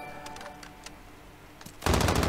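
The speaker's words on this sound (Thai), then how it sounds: "เน็กฟิลิปครับมาดักแล้วเปิดฉากยิงกันเลยฮะ" Video game gunfire in a competitive shootout: a few scattered, quieter shots and clicks at first, then a sudden loud burst of rapid automatic fire near the end.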